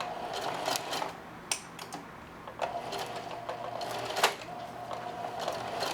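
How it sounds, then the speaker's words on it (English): A sewing machine back stitching a muslin apron, its rapid mechanical whirring and clatter running in short bursts with brief pauses, fairly quiet and close. "When I turn, I usually do a little back stitch just to tighten everything up"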